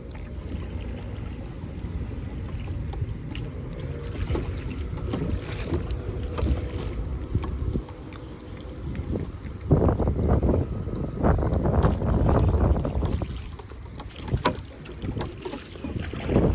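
Oars dip and splash rhythmically as a rowboat moves across water, with wind buffeting the microphone in the background.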